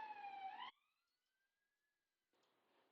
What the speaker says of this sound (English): Little police siren in the background.